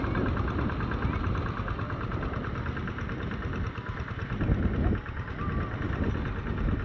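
A tractor plowing a rice paddy runs with a steady, knocking mid-low engine rumble close by. The throb stays fairly constant, with a brief dip, while voices sound faintly around it.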